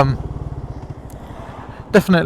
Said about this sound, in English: it's a really nice sounding exhaust, and it suits the bike.